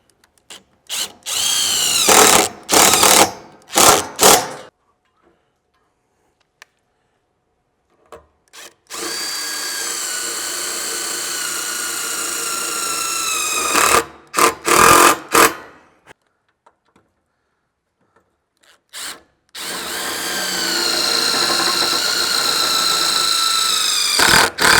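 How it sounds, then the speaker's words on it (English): Power drill driving screws through a spacer into a MOLLE panel on a Jeep Wrangler tailgate, several short trigger bursts followed by long steady whining runs that rise in pitch, close and loud with quiet pauses between. "Grab my drill."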